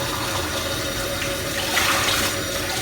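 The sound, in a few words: water rinsing a jug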